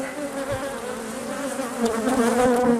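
Honeybees hum densely inside an open hive around a good laying queen, a close, continuous, wavering buzz with no voices.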